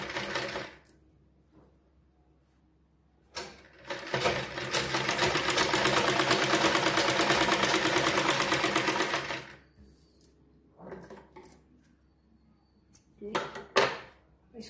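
A sewing machine stitches a girl's frock in a steady whirring run of about six seconds, with brief clicks and handling sounds before and after and faint talk in the gaps.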